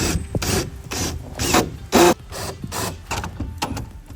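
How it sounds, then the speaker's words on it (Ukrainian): Bolts being tightened through washers on the floor of an assembled 3 by 2 metre enclosure, giving repeated rhythmic rasping turns of a tool, about eight close strokes with short gaps. "В даний момент ми закрутили три болта, ось через шайби, стягнули пол все"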